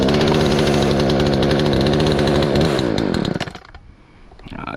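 A Poulan Pro PP4218A chainsaw runs at a loud, buzzing high speed for about three seconds, then its engine note drops away sharply and it sputters down to a quiet, low idle.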